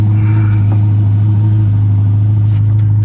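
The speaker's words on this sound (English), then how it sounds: "Not the best sounding of the Ferraris, but still a nice noise." A Ferrari Roma engine hums with a steady, deep drone that swells slightly in a mild rev, loud and close with a constant low rumble and no speech.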